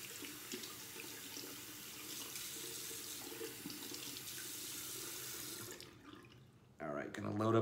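Tap water runs steadily for several seconds to wet a shaving brush at a bathroom sink, a continuous hiss that cuts off briefly near the end before a louder, closer splash and handling sounds.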